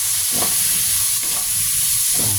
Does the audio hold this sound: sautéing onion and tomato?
yes